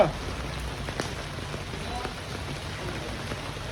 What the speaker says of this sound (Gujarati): વરસાદ તો કાંઈ ચાલુ જ છે